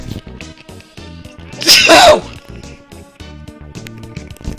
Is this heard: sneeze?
yes